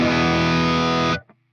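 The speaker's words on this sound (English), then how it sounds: "what I'm gonna do now is just bring in this enhancer" A sustained, heavily distorted electric guitar chord through a Victory Sheriff cabinet with an enhancer, rings loud and thick for just over a second before being cut off, followed by a brief faint after-note.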